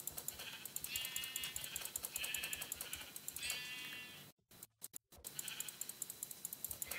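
Repeated sheep bleats from a survival video game with a slightly synthetic tone rise over a steady busy background, a few bleats in a row, with a brief dropout near the middle.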